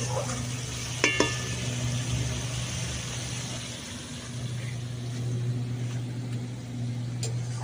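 Mustard-poppy spice paste for a pomfret fish curry is stir-fried in a pan with a soft, continuous sizzle and stirring scrapes, two quick utensil clinks near the start, and a low background hum.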